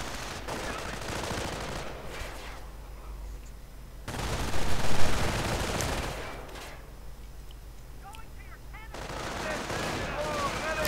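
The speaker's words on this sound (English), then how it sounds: "And the riflemen are still in there, shooting away madly." Riflemen and machine guns fire in bursts during a World War II real-time strategy battle, with sustained rattling gunfire that fades and returns in waves and has a moderate, slightly distant presence.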